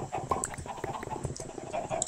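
Chickens cluck softly in the video game Minecraft, a quiet scatter of short bird calls and pecking-like ticks over low background noise.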